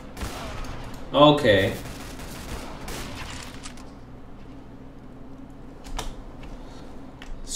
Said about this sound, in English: A lot of gunshots right here.